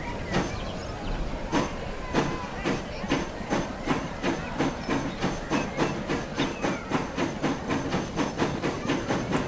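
A train passing in Transport Fever 2 on a western rail line, with a rapid, regular clickety-clack of wheels over rail joints and a hissing rush, loud and close, steady throughout.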